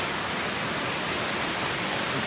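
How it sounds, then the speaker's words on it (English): Comer Creek Falls on the Appalachian Trail, near the Hurricane Forest Service campground, gives off a steady, even hiss of falling water that continues alone and unbroken throughout. "this is Comer Creek Falls"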